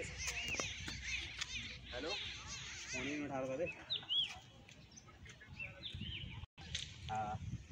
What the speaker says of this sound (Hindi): यहाँ चिड़िया का चहचहाट आप सुन सकते हैं।